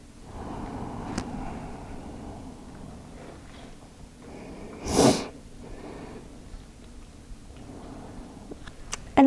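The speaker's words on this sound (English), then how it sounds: "Let's do a couple more deep breaths here." A single deep, forceful breath during a seated yoga stretch rushes out clearly about halfway through, with softer breathing and light movement around it in a quiet room.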